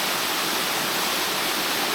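Steady roar of the Middle Black Clough waterfall, a broad, even rush of falling water close at hand without pause.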